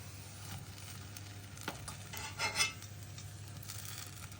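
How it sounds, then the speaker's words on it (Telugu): Fried gulab jamun balls dropped into warm sugar syrup: a few soft wet plops and splashes near the middle over a faint, steady kitchen hum, with a light clink of a utensil against the pan. "ఇప్పుడు ఈ వేగిన ఉండలను తీసి చక్కెర పాకంలోకి వేసుకోవాలండి"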